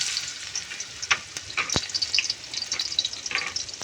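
Onion fries in cooking oil with a bright, continuous crackling sizzle, punctuated by sharper pops and a few stirring scrapes, close and fairly loud.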